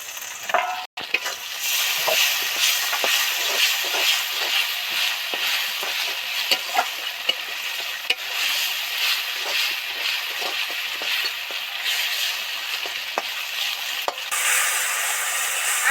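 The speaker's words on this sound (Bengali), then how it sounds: "এবার এর মধ্যে আদা রসুনের পেস্টটা দিয়ে দিচ্ছি" Onion, tomato and ginger-garlic paste fry in oil in a pan, giving a constant sizzle broken by repeated scraping strokes of a spoon stirring the mixture, close and fairly loud, with no talking.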